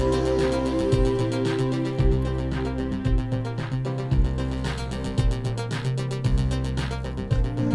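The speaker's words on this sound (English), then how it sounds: "Here's a track that I've done earlier with the Sultan Programmer 24." An analog auto-arranger track from a Sultan Programmer 24 plays through a Fat Bastard processor with the top end lifted: a steady, funky, 80s-style groove of pulsing bass, chords and crisp percussion at an even tempo.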